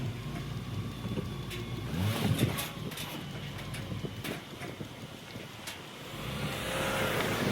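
The engine of a wrecked car runs after being jump-started, a faint steady idle with light revving under wind and rustling outdoor noise.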